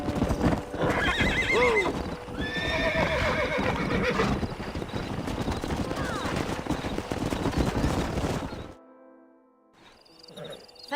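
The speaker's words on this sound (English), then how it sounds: "We got some fine horses." A stallion in Red Dead Redemption neighs repeatedly over loud, busy hoofbeats, with a brief spoken word, before the scene drops to near quiet at the end.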